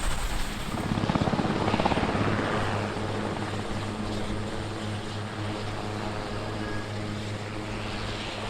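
A Swiss helicopter flies to fight wildfires in Corsica, its rotor chopping loud and close at first, then settling into a steady engine drone that carries on alone.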